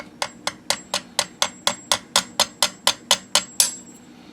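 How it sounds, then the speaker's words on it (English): A hammer taps metal about fourteen times in an even, quick rhythm while building a spin jig fishing lure, each strike sharp and ringing, close by with no talking. "take a hammer and tap them down"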